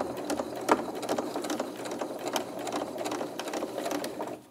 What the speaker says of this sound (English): stitch around the hem of the dungaree legs